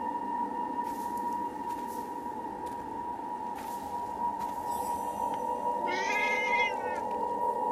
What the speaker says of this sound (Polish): Jest kotek i jednorożec.